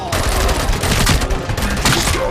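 Rapid gunfire in the video game RoboCop: Rogue City during a bank heist, a dense burst of overlapping shots, loud and close, with a voice talking over part of it.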